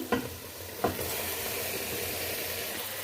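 Cauliflower goes into a pan of cooked chicken and potatoes for a Pakistani-style gobhi chicken, giving a couple of sharp clatters followed by a steady, moderate sizzle and hiss.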